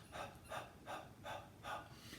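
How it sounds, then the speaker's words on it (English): Rhythmic panting from a vocal breathing exercise: five quick, soft breath pulses in an even rhythm, close and quiet, with no talking. "Now we're going to pant."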